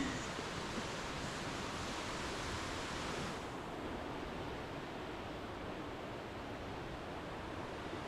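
The river rushes through Maligne Canyon in the Canadian Rockies as a steady, broadband roar of turbulent water, constant and fairly distant, heard alone without voices.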